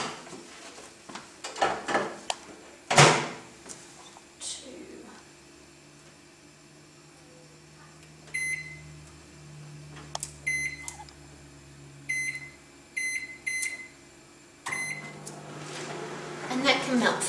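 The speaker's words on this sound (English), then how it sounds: "we're just going to melt it in the microwave" A microwave oven running to melt soap base, a steady low hum with faint clunks and brief high beeps between quiet stretches, while a person talks at times.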